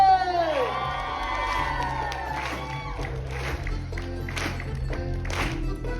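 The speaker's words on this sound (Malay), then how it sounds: "mari kita beri tepukan kepada SKM 2" A crowd claps, cheers and whoops at a dance competition closing ceremony. Shouts and higher voices ring out over the clapping, with a musical tone fading at the start.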